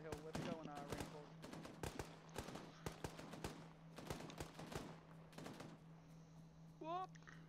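Rapid bursts of gunfire crack and rattle in Arma 3, with repeated sharp shots and fast automatic volleys spread across the scene. A voice talks over the shooting.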